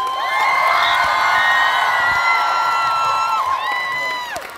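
A large concert crowd at Budapest Park cheers and screams loudly and continuously, with high sustained shouts rising over the roar before it slowly fades.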